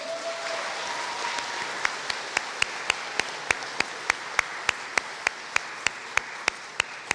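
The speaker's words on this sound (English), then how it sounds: "Give them a big round of applause." A graduation audience at a university ceremony fills the hall with a steady wash of applause, while one nearby pair of hands claps sharply and regularly above the crowd.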